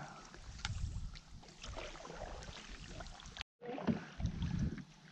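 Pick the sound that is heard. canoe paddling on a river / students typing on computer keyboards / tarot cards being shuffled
canoe paddling on a river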